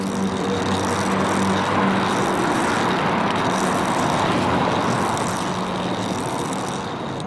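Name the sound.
street traffic passing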